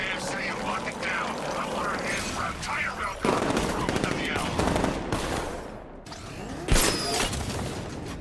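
Sustained machine-gun fire and gunshots in Batman Arkham Knight, bullets aimed at a tank, rattling loudly and continuously with a sharp burst near the end, under game voices.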